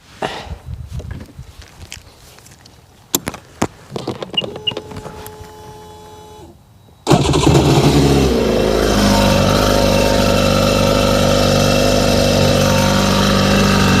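A Sea-Doo GTX DI personal watercraft sits quiet for several seconds, with only scattered clicks and handling noises. Then the engine fires abruptly and runs loud and steady to the end.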